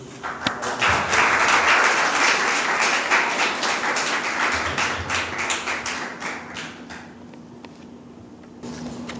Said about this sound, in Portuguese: Vamos aplaudir ela por ter vindo aqui compartilhar com a gente.